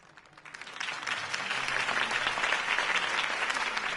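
Crowd applause in a PS4 video game follows Harvey Dent's campaign speech: a dense wash of clapping that swells after a quieter start and stays full and steady.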